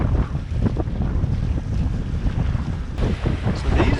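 Motorboat running past a narrow marina toward Castle Rock, a continuous engine and hull drone mixed with heavy wind buffeting on the microphone and water wash, no talk.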